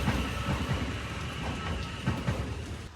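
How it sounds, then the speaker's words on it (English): A train passes through a railway tunnel at night in New Zealand, a dense, continuous roar with rhythmic low wheel clatter, close and loud throughout. "So many trains tonight, guys. It's a train fest here."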